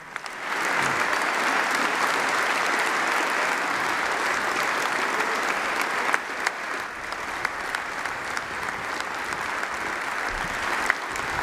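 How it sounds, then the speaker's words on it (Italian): Sustained, dense applause from a large audience at an Italian government ceremony at Palazzo Chigi honoring national athletes, steady and loud throughout with scattered sharper claps near the end. "Un applauso a tutti loro."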